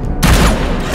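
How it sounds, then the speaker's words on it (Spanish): A wild shot attack in the video game Battle Chasers Nightwar lands as a loud burst of gunfire, a sharp blast followed by a rolling, crackling volley that fades briefly and then flares again at the end. "vamos a meter un disparo salvaje"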